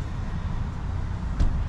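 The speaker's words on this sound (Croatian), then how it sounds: "i motor da vam snimim" A new 2023 Toyota Tundra's twin-turbo engine idles as a steady, low, close rumble, with a brief knock near the end and no speech.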